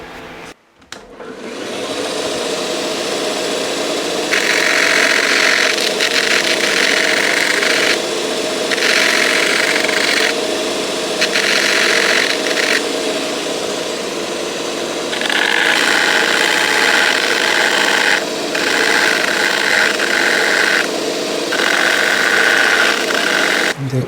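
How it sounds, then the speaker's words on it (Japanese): Bench grinding machine sanding the edge of a leather shoe sole fitted with a half rubber and steel plate, a steady loud motor drone with repeated bursts of abrasive grinding as the sole is pressed to the wheel. "機械を使って削っていきます。"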